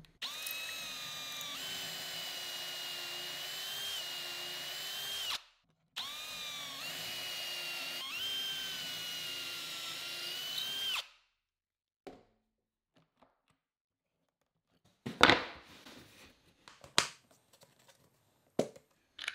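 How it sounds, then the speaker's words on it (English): A power drill bores pocket holes in a board clamped in an Armor Tool Auto Jig, running in two steady whining bursts of about five seconds each, followed by quieter clicks and clatter of handling the jig. "We would center it, clamp it down, and drill the pocket holes again."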